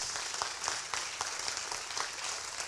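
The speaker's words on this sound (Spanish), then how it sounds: "Un aplauso por nuestra convocatoria y por nuestro sitio web." Audience applauding at an entrepreneurship pitch event in Antofagasta, a steady dense wash of many hands clapping throughout, fairly close and even in loudness.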